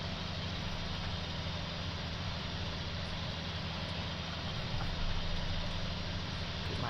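Steady tractor engine from Farming Simulator 19 on a Hungary map, a continuous low rumble with a constant drone that holds evenly throughout, with no speech over it.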